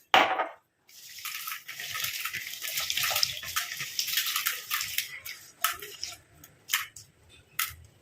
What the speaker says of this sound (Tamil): இப்போ இதில் தண்ணி ஊற்றிட்டு வாஷ் பண்ணி நம்ம எடுத்துக்கலாம்.